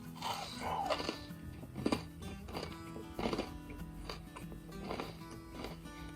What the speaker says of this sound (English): that's a crunch. There's a crunch. It goes crunch and then soft.